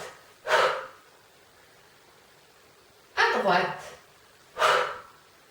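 Three forceful, breathy exhales during a yoga breathing exercise, close and distinct, each a short hissing rush of air separated by quiet pauses.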